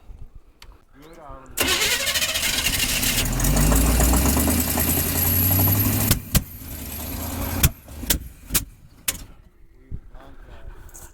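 A 1985 Chevy C-20 square body engine runs rough after long storage, a loud sustained rumble with low pulsing that cuts off abruptly, followed by sharp clunks and short bursts of noise while people talk nearby.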